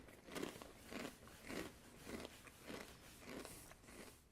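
Repeated crisp crunching as cream and onion potato chips are bitten and chewed, a steady run of about eight soft, close crunches spaced roughly half a second apart with no talking.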